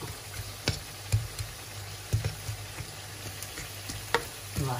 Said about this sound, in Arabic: نحطوا فيها الزيت ونحطوا فيها البصل تاعنا باش يتقلى